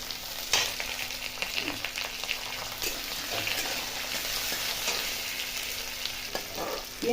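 Whole poppy seeds and chopped onion fried and stirred in a pan for Bengali potato bhorta, giving a constant close sizzle with scattered spoon scrapes and clicks.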